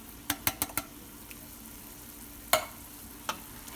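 Diced tomatoes are stirred into homemade goulash in a pan: a soft sizzle runs underneath, and a spoon taps and scrapes the pan in a quick cluster of four strikes, then a few isolated knocks.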